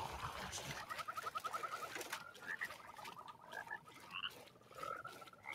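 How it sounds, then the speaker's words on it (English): Many frogs croak in the video game Mortal Shell, sounding like rapid, rattling pulsed calls that repeat in short bursts over a low ambient rumble. "Ah, lots of frogs."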